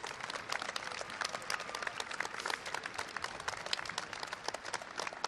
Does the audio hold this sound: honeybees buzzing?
no